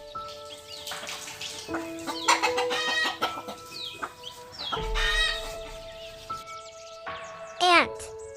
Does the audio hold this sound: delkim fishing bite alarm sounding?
no